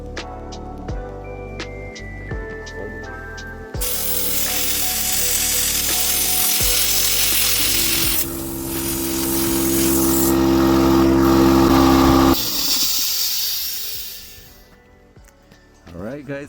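A CUT55 Prolux plasma cutter slicing through half-inch steel plate, a loud steady hissing roar lasting several seconds with a crackling sizzle, close up, after a brief hum as the torch is readied.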